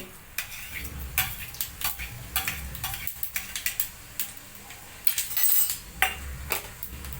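Cumin seeds sizzle in hot oil in a pan for a bottle gourd and yogurt dish, with steady crackling and irregular sharp clinks of a metal utensil close by.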